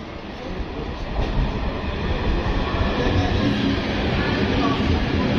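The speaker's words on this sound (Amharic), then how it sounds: "ባቡራችን መጥቷል። የኛ ባቡር" A train arrives with a loud, rising low rumble and rolling rail noise that builds and holds steady close by.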